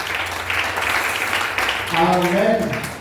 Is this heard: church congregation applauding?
yes